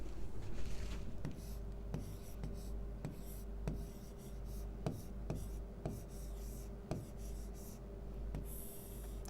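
A hand writes Hindi vowel notes on a classroom board with chalk or pen, making a run of sharp taps and short scratchy strokes at an irregular rhythm against a low steady hum. The room is otherwise quiet.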